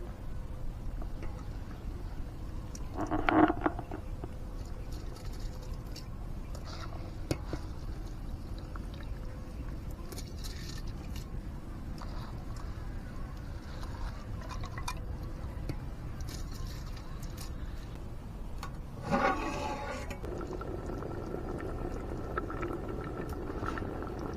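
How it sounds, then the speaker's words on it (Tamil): Water bubbles at a steady, low simmer in a pot for prawn biryani, a soft continuous churning with an occasional louder splash or clink. "தண்ணி கொதிக்க ஆரம்பிச்சிச்சு"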